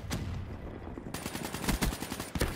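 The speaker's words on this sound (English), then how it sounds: "Frag incoming." A frag grenade detonating in the video game Black Ops 3, a loud sharp blast followed by crackling gunfire and rattling bursts, no talking.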